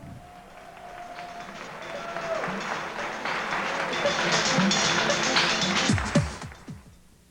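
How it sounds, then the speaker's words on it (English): A pageant crowd at Miss Continental Plus 1998 applauds the contestants; clapping swells gradually from quiet to a full, dense roar, then breaks off into a few heavy thumps. "Let's give them all a nice round of applause"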